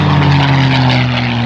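A P-51D Mustang at an airshow, with its piston engine and propeller roaring loud and close in a steady, unbroken drone and no voices.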